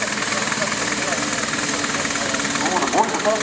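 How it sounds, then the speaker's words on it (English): A Foden steam wagon engine labouring as it pulls a weighted sledge, a steady rumbling chug with faint rhythmic knocking that grows slightly rougher toward the end, heard with people talking nearby. "They heard the engine starting to struggle."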